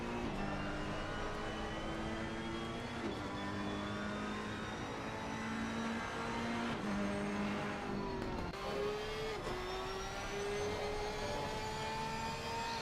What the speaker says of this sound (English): Boy, that Ferrari is popping.